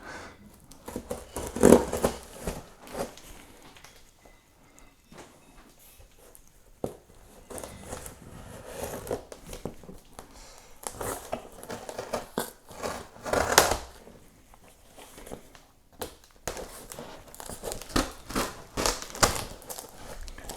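A cardboard box is slit and torn open with an unboxing tool: scraping, crinkling and cutting bursts in uneven clusters, close and fairly loud, with quieter handling gaps between.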